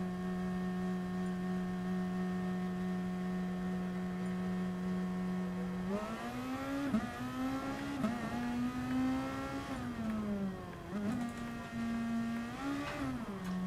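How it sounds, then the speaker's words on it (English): Race car engine in GT Sport: a steady high idle drone that jumps into a series of revs, rising and dipping several times, smooth and close with no talking. "Because I still want the car sound to be not too loud."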